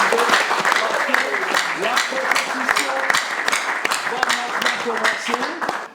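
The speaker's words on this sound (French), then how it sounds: "Est-ce qu'on peut encore les applaudir pour les deux?" Audience applause at a French-language school quiz contest show, a steady dense patter of many hands clapping throughout, with a presenter's voice talking over it.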